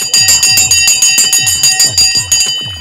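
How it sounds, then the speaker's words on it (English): A stock exchange opening bell rings loud and close, a rapid metallic clanging that repeats steadily for a few seconds with no talk over it. "The bell is gone."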